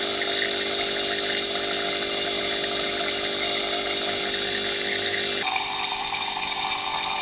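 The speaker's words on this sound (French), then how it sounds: "Ça éclabousse un petit peu," A fuel injector sprays steadily during bench cleaning, giving a continuous hissing, pump-like whir that runs alone without pause and shifts to a lower, slightly different tone near the end.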